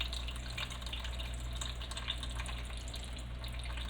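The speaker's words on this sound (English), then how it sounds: "See how much water comes out of it?" Water squeezed by hand from grated zucchini for Lebanese koussa fritters trickles and drips steadily, fairly faint and close, with no talking.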